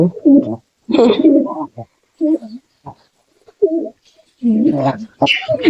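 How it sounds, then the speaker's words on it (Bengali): Pigeon with raised tail feathers cooing in short bursts, close and fairly loud, with several other pigeons joining in between; a person talks over the calls at times. "দেখো ডাকছে জ্যাকও ডাকছে ও ডাকছে"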